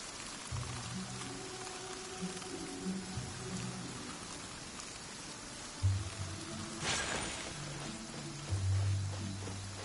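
Rain falls steadily in the video game Genshin Impact, a soft continuous hiss of drops with low rumbling thumps and a brief brighter splash partway through.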